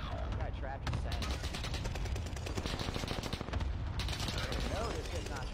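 Rapid automatic gunfire and bursts of shots from the Warzone video game fill the whole span, loud and continuous, with a voice talking underneath.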